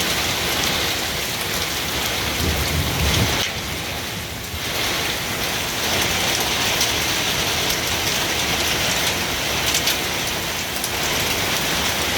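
Loud, dense hailstorm pounding outdoors, a continuous hiss of impacts with a brief dip midway and no clearly distinct thunderclap.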